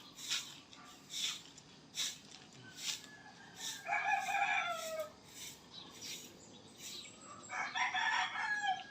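A Rhode Island Red rooster crows twice, clear and fairly close, with other bird chirps and a busy farm background between the calls.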